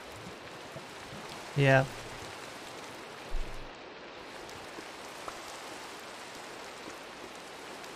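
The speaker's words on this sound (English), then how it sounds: "I think it's raining again." Steady rain in the video game Minecraft, a soft continuous hiss with faint patter, heard quietly under a brief spoken word and a couple of soft game sounds.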